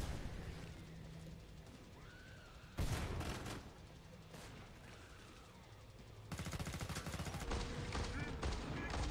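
Gunfire in the game Killing Floor 2 on Hard difficulty with the Commando class, loud rapid bursts of automatic shots in two sustained runs, with game noise and occasional voices.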